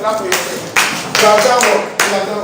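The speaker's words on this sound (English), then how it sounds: "Clap for yourself." A few bursts of hand clapping in a classroom, several separate rounds, close by, with some voices mixed in.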